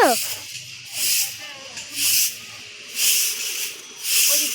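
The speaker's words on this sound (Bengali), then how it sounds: "তুমি এখন ঝাড় দিচ্ছ" A broom sweeps a floor at home in a run of rhythmic swishing strokes, about four broad bursts rising and falling at a steady pace, with a voice heard briefly at the start.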